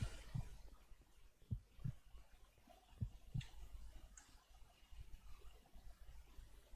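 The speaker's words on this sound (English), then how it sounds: "This will cause anxiety, as well as you hearing your own heartbeats." Heartbeat effect in the SCP: Lockdown video game, slow deep thumps that come singly and in pairs at uneven spacing over a quiet low hum, soft and muffled with nothing else on top.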